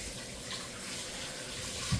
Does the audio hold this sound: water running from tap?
yes